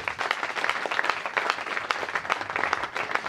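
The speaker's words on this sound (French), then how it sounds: "Applaudissez pour vous-même." Steady applause from a crowd at a gospel concert, dense clapping with no breaks throughout.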